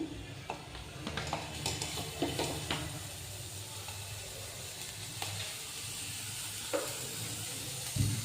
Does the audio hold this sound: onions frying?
yes